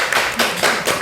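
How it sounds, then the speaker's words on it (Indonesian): A few hands clap in a small group at a podcast, three or four quick bursts close by, loud and slightly uneven. "tepuk tangan dulu"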